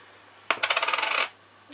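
A coin, a 50 kuruş or 1 lira piece used to tighten a Sony HDR-AS30V action camera mount, rattles and clinks in a quick run of about a dozen metallic ticks, close and clear with no talking.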